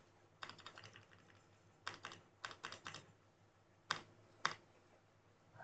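Close, quiet keyboard typing in a terminal session, with scattered bursts of key clicks and a few single sharp presses like repeated Enter strokes, no talking.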